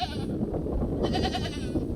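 Goats on a farm bleat in a loud, close chorus, several overlapping wavering cries following one another over a couple of seconds with a continuous rustle of animal noise beneath.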